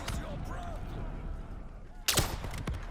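Gunfire in Black Ops 3 Zombies, with a burst of sharp, loud shots toward the end after a quieter stretch of game noise, and voices present underneath.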